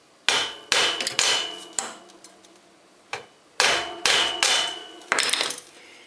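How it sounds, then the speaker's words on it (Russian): A hammer strikes a nut threaded onto a Soviet bicycle's bottom bracket, giving sharp metallic blows with ringing decay, about ten hits spaced irregularly, some clustered in quick pairs, loud and close without talk. "И слегка вот сюда ударить молотком."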